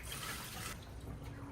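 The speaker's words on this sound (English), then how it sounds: "Then we're going to empty the water from inside the cooler." Water poured out of the cooler of a cold therapy machine, a steady close splashing gush that thins to a quieter trickle partway through, with no voices.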